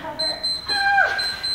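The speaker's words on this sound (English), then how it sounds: "Must shut off timer." A workout interval timer beeps in short, regular high-pitched bursts during a dumbbell HIIT session, with a voice sounding in the middle.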